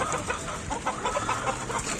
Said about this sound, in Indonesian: saya kasih makan nih, ayamnya lagi pada makan